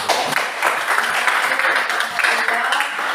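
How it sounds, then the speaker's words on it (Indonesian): Classroom applause from students during a maths lesson, a dense sustained patter of many hands clapping at steady loudness for a few seconds, with some voices mixed in. "Kalau benar kasih aplaus dulu."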